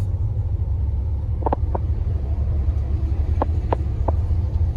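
A Chevy's engine rumbles at the Gulfport Dragway drag strip, a steady loud low drone holding throughout with a few faint sharp clicks over it.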